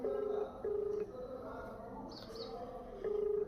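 An outgoing telephone call rings out with repeated steady ringback tones in short evenly spaced bursts. The tones are fairly faint over a quiet background.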